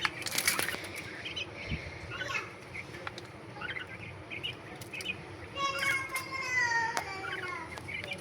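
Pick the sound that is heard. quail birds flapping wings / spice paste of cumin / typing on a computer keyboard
quail birds flapping wings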